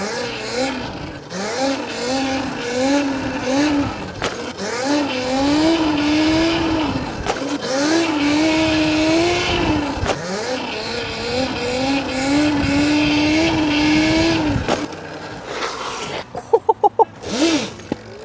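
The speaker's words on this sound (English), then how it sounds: "A rolling burnout with no front brake" A rolling burnout with no front brake and all torque, loud and steady, with a sustained high motor whine and tire squeal, ending in a few sharp clicks.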